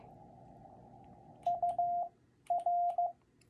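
Fast Morse code CW tones send UR as two quick clusters of sharp beeps, short dits and a longer dah run together, over a faint steady background hum.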